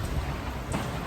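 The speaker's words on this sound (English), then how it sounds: "the rain gets heavier and heavier" Heavy rain during Storm Eunice pours down in a dense, continuous hiss on a 1960s house with a leaking roof, steady and close with no voices over it.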